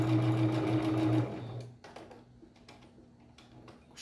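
A sewing machine with a presser foot stitches a fabric place mat. A steady, loud motor whir runs for about a second and then stops, followed by faint ticks and handling taps.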